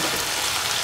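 Fried taro root crackles as it is stirred through a hot pan for chilli taro root, a short dense close sizzle with no speech.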